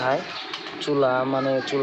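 Big-size 'sobji racer' pigeons coo softly in a loft, their low murmuring partly buried under someone talking over them.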